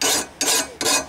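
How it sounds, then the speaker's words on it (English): A hand file rasps along the edge of a steel lawnmower blade in three long, even strokes, each a bright scraping sweep close by with brief pauses between. "with the hand file you can finish that edge off as sharp as you want."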